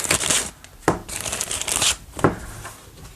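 A deck of fast action baseball game cards is shuffled by hand, giving papery riffling bursts in several quick bouts, close and fairly loud with no talking.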